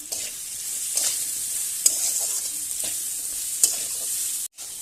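Small mourala fish coated in turmeric and salt fry in a pan, giving a continuous bright sizzle with occasional sharp clinks and stirring scrapes, then a brief drop near the end.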